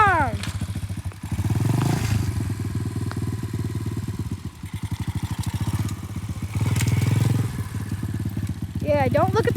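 A 125cc dirtbike engine runs steadily close by, its motor note droning and wavering as the throttle rises and falls, with people talking over it throughout.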